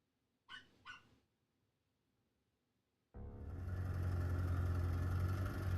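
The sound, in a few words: small dog yapping downstairs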